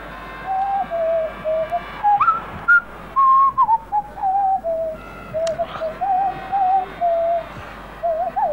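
A person whistles a wandering, tuneless melody in short phrases with brief gaps, the clear tone sliding up and down over about eight seconds, close and prominent with faint background noise.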